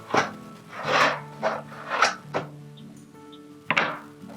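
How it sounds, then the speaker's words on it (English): A hand file rasps across galvanized metal roofing panel to score a mark, several separate scraping strokes in an uneven rhythm, close and fairly loud with short pauses between. "we're going to take our file to score this mark"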